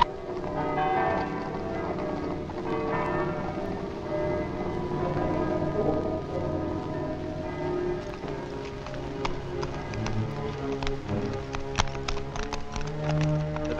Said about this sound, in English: And silence those bells.